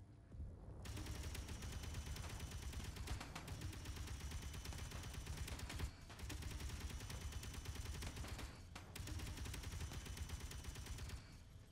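Enemy gunfire in the video game Space Engineers, aimed from about 750 meters, arrives as rapid, sustained automatic bursts, loud and dense, broken by a few brief pauses and running on without any voices.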